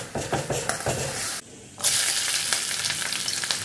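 Garlic frying in hot oil in a wobbly wok, with vegetables due to follow, producing a loud, close, continuous sizzle that cuts out briefly and then returns stronger.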